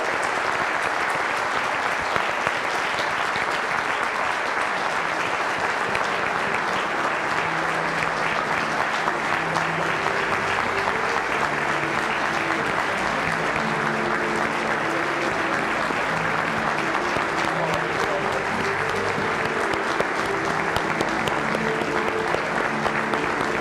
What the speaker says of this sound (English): I hope you'll give them a big round of applause